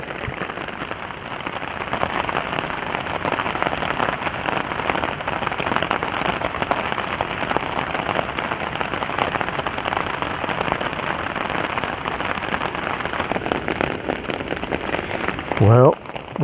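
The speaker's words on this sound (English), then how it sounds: "I'll leave you with some more rain sounds." Steady rain pattering on a hammock tarp at a bush campsite, a dense, even hiss of drops throughout, with a brief louder rustle or knock at the very end.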